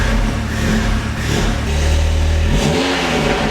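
A straight-piped Audi S3 engine revs hard and loud, with repeated throttle blips rising and falling, close by with no talking.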